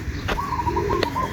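Pigeons cooing up close, one soft rolling coo phrase lasting about a second with a couple of faint wing or beak clicks, no talk.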